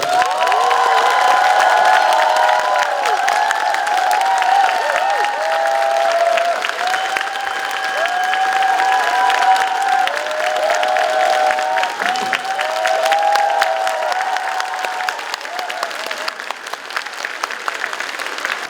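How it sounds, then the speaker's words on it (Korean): A large lecture-hall audience in Daegu gives sustained, loud applause with scattered cheers and whoops as the head of the Roh Moo-hyun Foundation is welcomed to the stage for a special lecture, the clapping dense and steady throughout. "큰 박수로 모시겠습니다"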